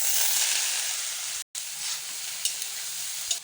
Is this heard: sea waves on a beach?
no